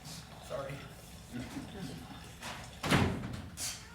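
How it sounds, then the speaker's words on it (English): A door closes with a short, solid thump in the middle of a quiet indoor stage scene, preceded by faint shuffling and low room noise. "Could you close the door?"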